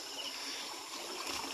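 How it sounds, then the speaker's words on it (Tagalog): Water streams steadily into a freshly dug hole in a muddy spot where crabs are hunted, a continuous close trickling and gurgling rush without pauses. "Ayan, pumapasok na yung tubig."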